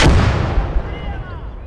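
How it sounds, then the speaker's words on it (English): Heavy artillery fires in the WWII strategy game Gates of Hell: Red Star Rising, one loud, close, booming blast at the start that rolls off into a long fading rumble with scattered crackle. "That was a big artillery piece."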